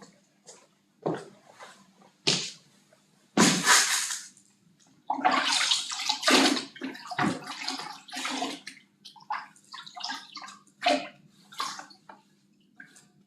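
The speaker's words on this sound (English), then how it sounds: "I'm just going to wash my trowel down" A plastering trowel coated in levelling compound is rinsed under water, with irregular bursts of splashing and scraping spread across the span, some loud and close, separated by quieter gaps.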